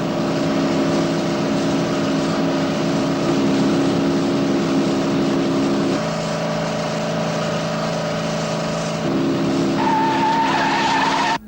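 Two race cars running side by side in a 1960s televised race: a loud, steady engine drone with layered harmonics throughout, the pitch shifting around the middle, and a tire squeal joining toward the end.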